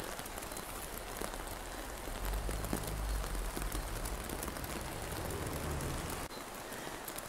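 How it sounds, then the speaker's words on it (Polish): Heavy sleet, thick snow mixed with rain, falls outdoors by the Muzeum Susch, making a dense, continuous hiss of drops with a slightly louder stretch in the middle and no voices. "pada gęsty śnieg z deszczem"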